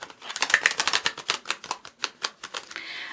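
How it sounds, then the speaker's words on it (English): Tarot cards being shuffled by hand, a quick run of crisp riffling flicks and slaps in a steady rhythm, close and clear with no talking. "I'm going to shuffle the cards, and then I'm going to put 12 cards in 2 rows of 6."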